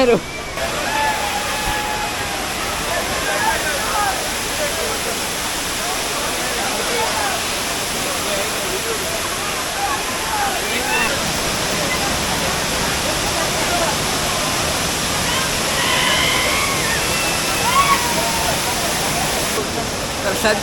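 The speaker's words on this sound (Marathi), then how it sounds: "बघू शकता तुम्ही सावडाव धबधबा" Sawdav waterfall in Kankavli, Sindhudurg, roars steadily and loudly throughout, a dense constant rush of water with voices faintly audible beneath it.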